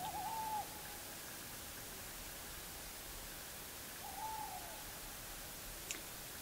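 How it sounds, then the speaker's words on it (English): Two soft owl hoots drift in from a distance from a big ash tree, spaced apart, over a quiet late-night hiss with a faint click near the end. "Do you hear the owls hooting?"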